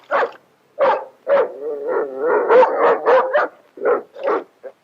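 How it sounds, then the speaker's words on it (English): A dog barks in a series of short, loud, close barks, with a longer run of whining yips in the middle, then more separate barks. "Why is he barking?"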